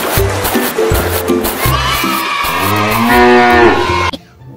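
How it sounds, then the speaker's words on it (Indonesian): A cow moos in long, drawn-out calls, loud and close, with several lowing bellows running back to back before a sudden stop into near silence. "di sini kakak menemukan hewan sapi"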